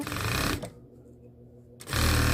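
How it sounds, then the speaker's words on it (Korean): A sewing machine stitches a ribbed cuff onto a sweatshirt hem with overlapping side slits, running in a loud, fast whirring burst, pausing briefly, then starting up again just as loud. "쭉 박음질 해주세요."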